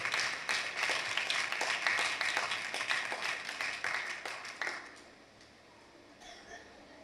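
Audience applause during a Tamil church sermon: a crowd of hands clapping steadily and fairly close for about five seconds, then fading to a quiet room with faint movement.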